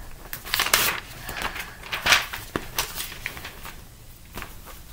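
Paper and plastic rustle and crinkle as a school folder is pulled out and a form is handled, a run of close, irregular crackles and shuffles with no talking.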